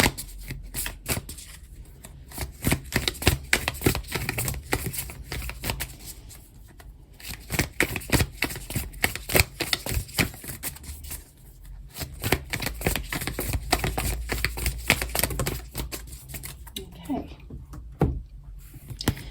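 Crystal mandala oracle cards shuffled by hand in a steady run of close riffling, slapping flutters, continuing for a long stretch with brief pauses and a soft voice in the background.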